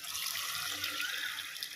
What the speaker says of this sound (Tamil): இப்போ நம்ம புளியை ஊற்றிக்கலாம்.